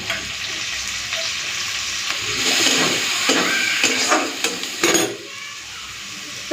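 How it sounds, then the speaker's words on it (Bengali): Chopped onion hits hot fish oil and fries with a loud, steady sizzle, joined by scraping stirs and a few sharp clatters of a utensil against the pan, then the sizzle settles lower. "এখন দিয়ে দিচ্ছি পেঁয়াজ কুচি।"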